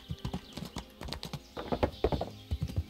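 Horse hooves clip-clop at a steady walking rhythm in the video game Kingdom Come: Deliverance, close and clear, with a faint whinny.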